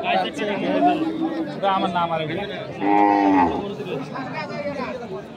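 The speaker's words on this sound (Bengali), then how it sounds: "আপনারা দেখছেন এখানে যে ষাঁড় গরুগুলো প্রায় বিক্রয় করা হচ্ছে" Bulls low loudly at a busy village cattle market in Kaharol, Dinajpur, with one long, drawn-out moo standing out over steady crowd chatter and nearby voices.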